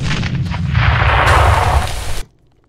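Dynamite blast in the PC game Demolition 3D: a loud, sustained roaring explosion with rumbling debris lasting about two seconds, ending abruptly in near silence.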